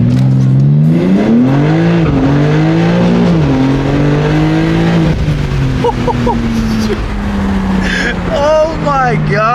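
A BMW G80 M3 launches hard from a standstill and accelerates, its engine note rising loud and close through the gears, with people talking and exclaiming over it.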